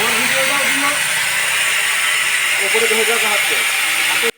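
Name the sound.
sharpening a worn bike chain sprocket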